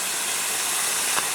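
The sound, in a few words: steam hissing while cooking without fire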